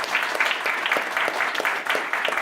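An audience at a lecture claps in a steady, rhythmic unison beat, moderately loud and close, with the pulses repeating evenly and no speech over them.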